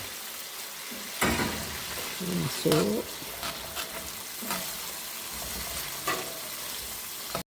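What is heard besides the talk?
chicken frying in hot chili oil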